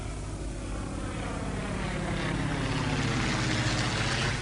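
A passenger airplane in flight during a long trip, giving a steady, loud broadband engine roar that holds constant throughout with no voices.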